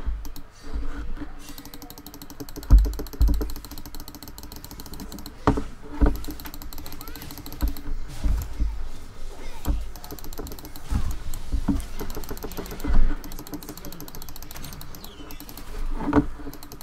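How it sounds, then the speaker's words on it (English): Computer keyboard keys clatter in quick, uneven bursts of clicks and taps during a League of Legends match, close and fairly quiet over a low in-game background, with no talking. "I freaking pressed the keys twice on this thing"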